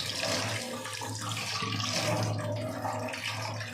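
Clean water poured over soaked rice during a rinse for homemade anarsa, a steady rushing wash of water close by with no talk.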